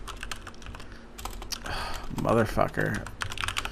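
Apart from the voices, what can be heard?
typing on a computer keyboard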